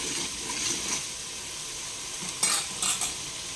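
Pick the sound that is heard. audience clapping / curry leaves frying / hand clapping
curry leaves frying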